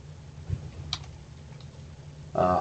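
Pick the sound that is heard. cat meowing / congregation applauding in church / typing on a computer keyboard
typing on a computer keyboard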